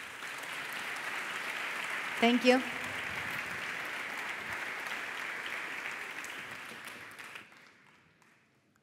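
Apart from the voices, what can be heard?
audience applause at a conference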